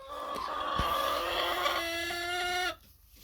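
Chickens cluck and squawk loudly in a hen house. One bird's agitated, drawn-out cackle rises and ends abruptly near the close, with other hens clucking underneath. The sound is close, with no speech.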